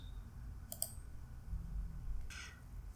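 Two quick, faint computer mouse clicks, spaced about a second and a half apart, in a quiet room during an Oracle 21c installation on Windows 10.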